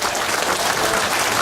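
Applause from a political rally crowd, a steady dense clapping that fills the whole moment at close range with no voices over it.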